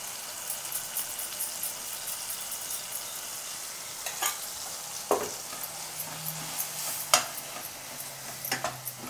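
A spoon stirs ground fenugreek, mustard seed, chili and asafoetida frying in oil in a pan, giving a soft steady sizzle with scattered faint scrapes and clinks.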